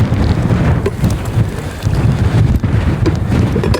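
Strong wind buffets the microphone outdoors while fishing for shrimp, a loud continuous rumbling roar with gusty swells and no voices.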